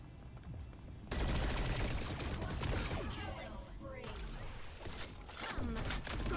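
The Gatling hero in the T3 Arena video game fires a sustained, loud barrage of rapid gunfire, with whooshes and impact thuds mixed in.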